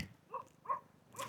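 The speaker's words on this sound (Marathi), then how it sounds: "तिथं कुठेतरी कुत्रा ओरडतोय" A dog barks three times far off, short and faint, evenly spaced against a quiet background.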